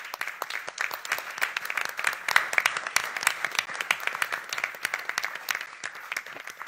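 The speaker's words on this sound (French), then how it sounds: "Je pense une bonne dernière main d'applaudissements." A closing round of audience applause at a panel discussion, with crisp, individually distinct claps rattling along evenly at moderate volume for several seconds, alone without voices.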